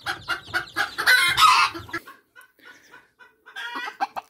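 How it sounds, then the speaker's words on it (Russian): Several roosters crow and chickens cluck loudly nearby indoors, a burst of overlapping calls followed by quieter clucks and another flurry. "Как мне надоели эти петухи все, которые находятся в доме."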